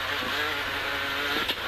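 The engine of a Mitsubishi Lancer rally car racing in the Dakar 2012 drones loudly and steadily in a brief burst, with a rough revving tone and a small surge near the end.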